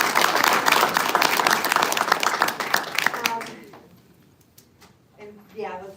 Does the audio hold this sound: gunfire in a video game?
no